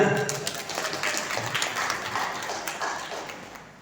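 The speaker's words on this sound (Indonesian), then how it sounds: "kita ucapkan terima kasih tepuk tangan buat Irma Sinaga" Steady crowd applause at a Batak community New Year gathering, a dense wash of many hands clapping at once, sustained throughout and slowly fading toward the end.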